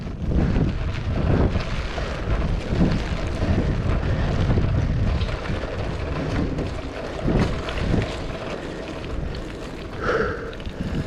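Steady wind buffeting the microphone while cycling into a headwind during a typhoon in Japan, a loud continuous low rumble with gusty swells throughout, no voices.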